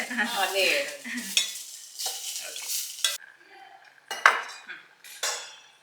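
Spices for a tempering sizzle and crackle in a hot pan while a spoon stirs and clinks against the metal, in bursts with short pauses, close by.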